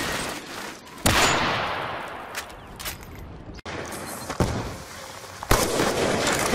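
Explosives detonate in a video game shooter, with several sharp, loud blasts at irregular intervals, each followed by a crackling, rumbling tail, and no voices over them.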